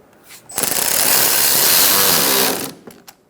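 A power tool whirs for about two seconds in one loud, steady burst, tightening screws on a 2012-2018 Ford Focus AC condenser from under the car on the driver's side.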